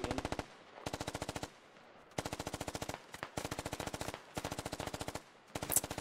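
Rapid automatic gunfire in a squad-based military shooter game, loud bursts of rhythmic shots repeating several times with short pauses between them, with no talking over it.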